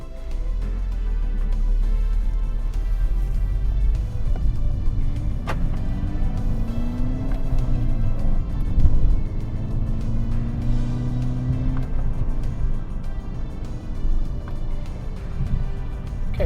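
A Volkswagen GTI MK6 fitted with R8 ignition coils pulls away, its engine a loud, continuous close-up drone from inside the car, with rising and falling tones as it accelerates through gears.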